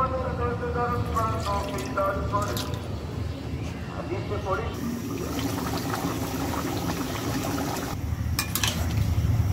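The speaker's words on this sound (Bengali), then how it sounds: "আর একটু পানি দেব।" Water pours and splashes into a cooking pot of turkey meat and skin, a close, bubbly liquid rush with some clanking of the pot, and a voice talking over the first half.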